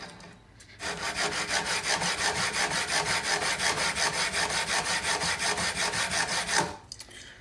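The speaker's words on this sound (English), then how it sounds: "Beveled file now." A beveled file rasps steadily across the ends of guitar frets on a handmade guitar, close up, in about thirty even back-and-forth strokes that start and stop abruptly, with no voices.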